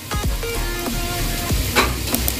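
Prawn chingari fried rice cooking over a low flame, with a steady close sizzle broken by several sharp scraping strokes as it is stirred.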